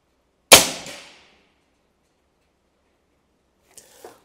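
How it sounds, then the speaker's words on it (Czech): A Black Bunker BM8 folding air rifle fires one sharp, close shot that snaps and decays quickly into silence, followed by faint small clicks and handling noises. "Dáme si ještě dva výstřely."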